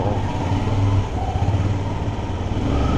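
A Honda CBR600 F4i motorcycle engine drones steadily while riding, a loud, continuous mid-range hum with slight throttle swells and road noise.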